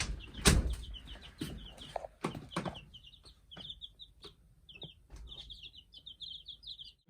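Small flock of young chickens, seven chicks kept inside a small camper on a chilly day, giving repeated short high chirps and peeps scattered throughout, with occasional soft thumps and rustling nearby.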